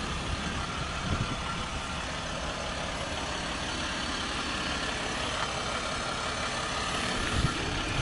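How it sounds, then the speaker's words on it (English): A Ram 1500 Longhorn crew cab 4x4 diesel pickup idles, heard from the rear near the exhaust as a steady, fairly quiet low rumble with a broad even hum and no revving. "the exhaust noise is almost nothing back here"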